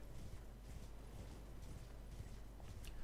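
A tormented, spine-broken horse in Elden Ring trots along, its hooves clip-clopping in a quick irregular rhythm, faint and low in the mix with no voices.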